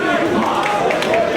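A capacity crowd three rows deep at a wrestling event, with a wrestler flying over the guardrail into the fans, gives off a dense, steady roar of voices and cheering throughout.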